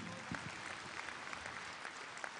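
An audience applauds at a children's opera presentation, a soft, even wash of clapping heard from a distance and sustained throughout.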